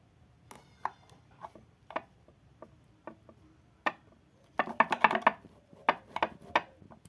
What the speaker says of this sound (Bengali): এবার আমি মাঝখান থেকে আরও একটি টুকরো আমি করে নেব।